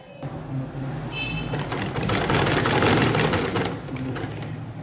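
A sewing machine runs steadily while stitching baby frock fabric, a continuous mechanical whir with rapid needle ticking that swells slightly louder in the middle, close and alone.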